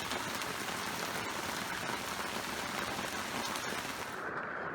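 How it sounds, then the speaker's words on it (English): Heavy rain pounds steadily outside an RV, a dense, constant hiss and patter on the roof and surroundings, loud and unbroken throughout with no talking. "Well, I think you can hear the rain outside."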